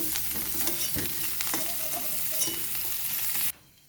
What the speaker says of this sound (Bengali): আমার ফুলকপিটা ভাজা হয়ে গেছে। এবারে আমি একে একে তুলে নেব।